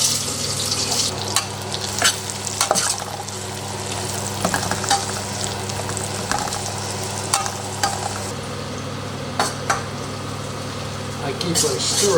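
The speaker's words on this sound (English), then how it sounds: "I keep on stirring the onions and saute them on a low heat" Onions sautéing over low heat in a pan for gravy, a continuous close sizzle with repeated scraping stirs and light clatter from the utensil, steady and fairly loud throughout.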